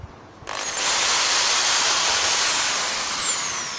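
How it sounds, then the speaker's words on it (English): A rotary hammer drill starts up and runs steadily during wall mounting of a dish pole, a loud, continuous high whine that begins abruptly and holds at an even level without speech. "So you need to take your hammer drill. This is a rotary hammer drill."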